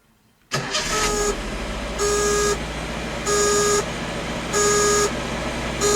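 A 1976 Datsun B210's engine cranks and catches, then settles into a steady idle close by, while a warning chime beeps in a regular on-off pattern over the running motor.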